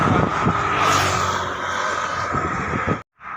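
A vehicle pulls away from a highway tea stall onto a bypass road, its engine droning loud and steady with road noise before a brief dropout near the end.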